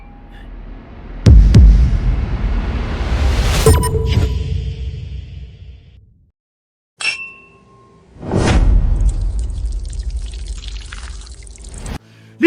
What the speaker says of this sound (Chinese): 你把酒洒在地上